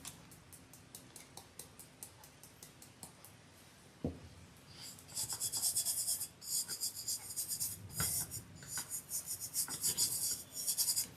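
Glitter being rubbed into a Christmas tumbler, starting as a faint run of light, rhythmic strokes, then turning into louder, continuous scratchy rubbing in quick repeated passes, with no talk.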